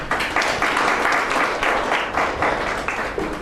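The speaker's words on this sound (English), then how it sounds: "Please, with an applause." A hall audience at a spiritual talk in Hyderabad breaks into continuous applause, dense rhythmic clapping that continues throughout.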